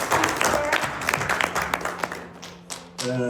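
Congregation clapping in a church service, a dense run of claps continuing throughout with a voice speaking over it near the end.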